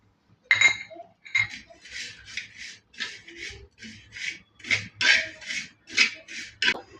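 Sesame seeds dry-roasting in a pan while being stirred: a steady run of soft, rhythmic scraping and rustling strokes, with a faint crackle and a few light clinks, close and quiet.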